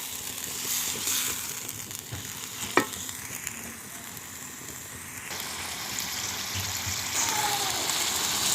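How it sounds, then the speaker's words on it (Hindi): Ginger, green chili and garlic paste frying in a pan for a chicken karahi gives a steady low sizzle, with stirring scrapes and one sharp clink from a utensil against the pan. "अब हम इसमें डाल लेंगे अदरक और सब्ज़ मिर्च और लहसुन का पेस्ट। और अब हम इसको भी अच्छी तरह मिक्स कर लेंगे।"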